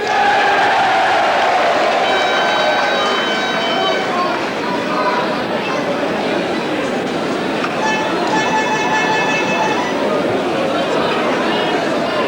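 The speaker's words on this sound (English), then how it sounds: "So that cheer there was from the travelling Sydney City supporters." Travelling Sydney City soccer supporters cheer at a National Soccer League match against Newcastle United, a broad, steady roar of crowd noise with chants and shouts rising through it, heard from a distance with commentary voices over the top.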